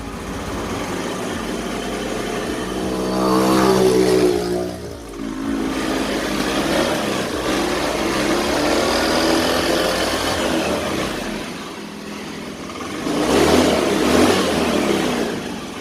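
A Honda Beat FI scooter engine runs close by with a steady idle, swelling twice into light, brief revs before settling back.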